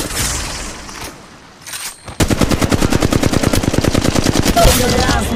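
Automatic weapon fire in Apex Legends Mobile: after a quieter stretch of game noise, a long, loud, close burst of rapid evenly spaced shots runs for over three seconds.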